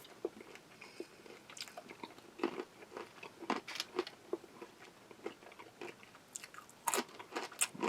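Close, crisp crunching of a roasted, salted, chili-seasoned snack from a US Army halal MRE combat ration, irregular bites and chews with sharp crackly bursts, no talking.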